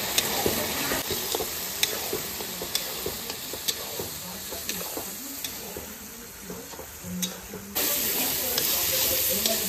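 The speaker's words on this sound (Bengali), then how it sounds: "আর দিয়ে দেবো হলুদ গুঁড়ি, দিয়ে দেবো নুন। ভালো করে কষিয়ে নেব।" Spice masala of ginger garlic paste, turmeric and salt sizzles and hisses while being sautéed outdoors at a picnic, with steady frying, frequent spoon scrapes against the pan and a louder surge of sizzle near the end.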